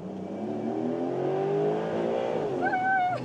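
Porsche 911 GTS Hybrid convertible, top down, accelerating on the road, a steady engine note climbing in pitch as it gathers speed, then a brief higher whine near the end, heard from inside the car.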